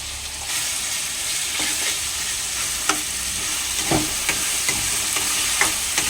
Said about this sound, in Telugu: ఇందులో అల్లం వెల్లిపాయ పేస్ట్ వేస్తాను.